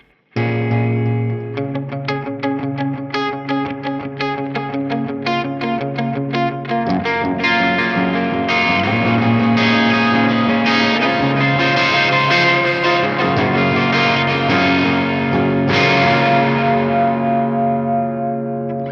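Electric guitar played through a Neural Amp Modeler amp simulation with a hall reverb in Logic's Space Designer, distorted picked notes and chords ringing out in a wide, washy reverberant tail, close and continuous.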